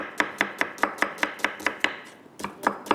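Steady knife chopping of onions and green chillies on a board, about a dozen crisp, evenly spaced cuts with a brief pause near the end, close and clear with no talk.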